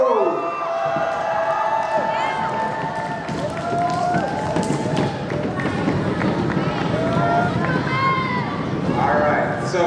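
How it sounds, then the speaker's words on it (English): A school crowd holding up signs cheers loudly at a card-ripping event, a dense wash of shouts and whoops with some scattered clapping that holds steady throughout. "let's hold up those signs and start cheering"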